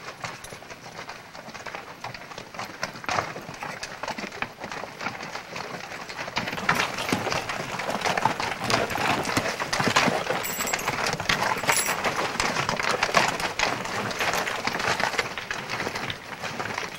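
Horse hooves clip-clop steadily along a rocky pack trail in the Eastern Sierra Nevada back country, a continuous close rhythm of shod steps on stone with faint rustling, no talk.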